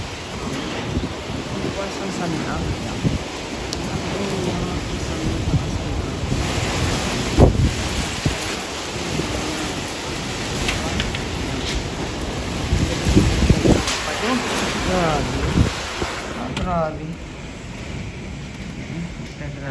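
Strong typhoon wind during Typhoon Tino roars continuously across the microphone alongside surf-like rushing, loud and close, with occasional gust peaks and brief exclaiming voices.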